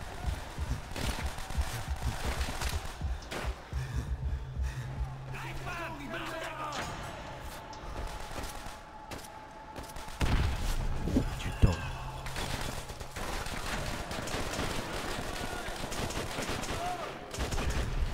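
Gunfire in the World War II shooter Call of Duty: World at War, with sharp bursts and single shots scattered over a noisy battlefield, some close and loud, mixed with talking throughout.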